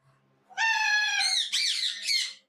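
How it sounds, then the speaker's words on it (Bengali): Lutino ringneck parrots at a bird farm give loud, close squawks: a long harsh call followed by two shorter, rising screeches, with almost no background noise. "এখানে যে পাখিগুলো দেখছেন, এখানে লুটিনো সবগুলা পাখি ছেলে পাখি"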